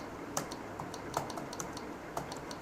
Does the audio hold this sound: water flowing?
no